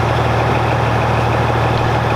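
Truck engine running at a steady idle, a continuous low rumble with an even hum throughout, close and fairly loud, with no voices.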